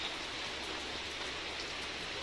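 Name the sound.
rain falling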